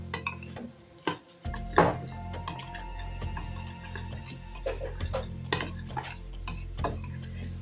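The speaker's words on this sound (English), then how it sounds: "we're gonna give that a good mix. Let's mix that away" Seafood with mixed herbs is stirred in a bowl, a utensil scraping and clinking against the sides in an irregular close rhythm, with occasional sharper taps.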